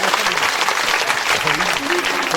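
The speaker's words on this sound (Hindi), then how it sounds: "उनके लिए एक बार जोरदार तालियां।" A crowd at a Shri Ram Katha gathering in Karanpura gives loud, continuous applause, with a voice speaking over the clapping.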